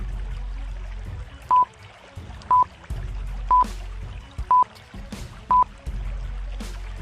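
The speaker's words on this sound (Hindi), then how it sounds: "नीचे पानी में बुलबुले आ रहे हैं।" Cartoon bubbles rise underwater, with watery gurgling and a burst of short bright blips repeating about once a second, five in a row.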